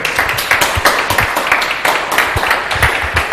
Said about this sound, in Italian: Ok, applauso.